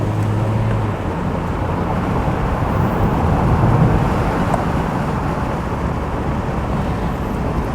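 A Mazda Miata driven fast fills the space with a continuous low road and wind roar that swells slightly midway and then holds steady, with no talking.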